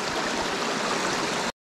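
A small stream runs beside a forest path in the Belgian Ardennes, its steady broadband rush and burble holding even and close for the whole stretch before stopping abruptly.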